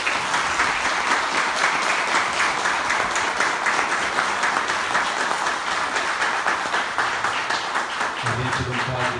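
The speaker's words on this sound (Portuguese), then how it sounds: "Essas palmas sempre são para o nosso mestre" Audience applauding after a lecture on science and spiritism, a loud, sustained wash of many hands clapping from start to finish.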